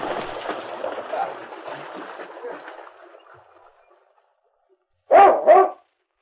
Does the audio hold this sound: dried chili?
no